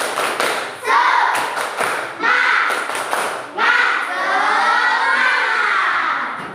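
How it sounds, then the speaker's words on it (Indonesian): Classroom children perform a tepuk semangat spirit clap, loud patterned bursts of clapping and thumping interleaved with shouted chanting voices, in several rhythmic phrases. "Tepuk semangat."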